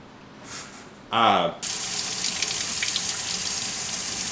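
Tap water pours steadily into a sink as a pan is washed, a short vocal sound coming just before the constant gushing stream begins.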